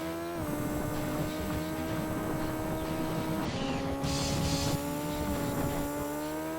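A rally car engine in the Gran Turismo 2 racing game, a continuous buzzy synthetic drone that shifts pitch as it changes gear partway through, loud and steady throughout.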